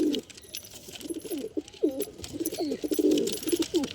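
Several pigeons in a loft coo close by, overlapping soft, throaty rolling calls that pulse almost continuously over a low background hiss.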